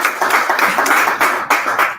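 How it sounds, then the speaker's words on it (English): Small group clapping at a lunch talk, a steady round of applause from a modest audience, fairly close and uninterrupted for about two seconds. "we're going to give her a hand of applause"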